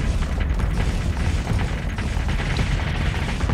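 Missile interceptions in the Starsector space combat game, a steady dense rumble of distant booms and muffled blasts running without a break.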